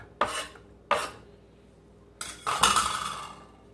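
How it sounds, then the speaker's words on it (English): Chopped red pepper tumbles into a soup pot for a Southwestern soup. Several distinct clinks and scraping clatters of a utensil against the metal pot come close and crisp, separated by short pauses. "what I have done is I've chopped up the red pepper. So we're going to put that in."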